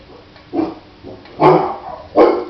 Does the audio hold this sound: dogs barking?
yes